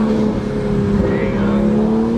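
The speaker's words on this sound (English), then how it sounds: "Now you can hella hear the spool." Turbo spool from a 2023 Toyota Supra 3.0 Premium manual with a CTS intake, a sustained engine drone with a rising whistle layered over it as the car accelerates.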